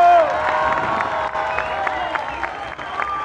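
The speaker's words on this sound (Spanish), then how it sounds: "Un aplauso. ¡Bravo!" Live audience applause and cheering at a music performance, a loud burst of many hands clapping with shouts and whoops on top, steady throughout.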